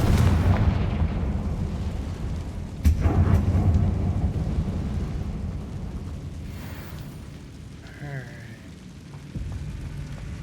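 A Confringo fire spell in the video game Hogwarts Legacy goes off as a loud, sharp blast followed by a rolling, crackling rumble that fades, with a short tonal chime later on.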